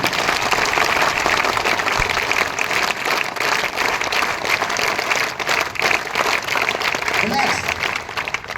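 An audience gives long, steady applause to welcome guests Sabir Khan and Nizamuddin at a patriotic Hindi gathering about soldiers, loud and dense throughout with faint voices mixed in.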